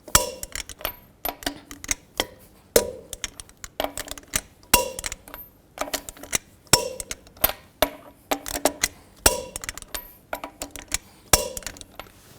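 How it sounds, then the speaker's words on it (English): A torque wrench clicks sharply as lug nuts are tightened on a 2000-06 GMC Yukon wheel. The crisp metallic ticks come in a fairly regular series of a dozen or so, close and clear, with no talk. "Now I'm going to torque these lug nuts to 140 foot-pounds in a star pattern to tighten the wheel down evenly."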